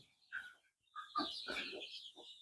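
Young chickens about sixty days old chirp and cluck in short, close bursts separated by brief pauses, with no talking.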